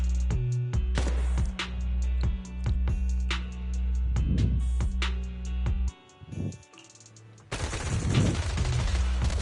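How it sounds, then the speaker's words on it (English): Suppressive marching fire in Zenless Zone Zero: bursts of sharp gunshots and rapid volleys, dense and fairly close, broken by a brief lull before a heavier burst of fire. "Gunfire? This pattern. Suppressive marching fire."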